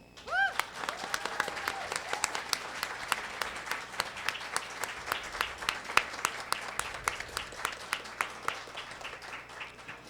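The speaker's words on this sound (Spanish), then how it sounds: "Quiero que demos un fuerte aplauso porque las niñas triunfaron" At a press conference on girls' reproductive rights, the audience claps to celebrate a legal victory: a voice at first, then a long stretch of sparse, distinct claps from a modest group, steady throughout.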